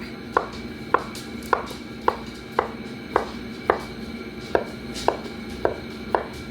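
Olives being roughly chopped with a knife on a cutting board, about a dozen sharp, evenly spaced chops, close and clear, with no talking.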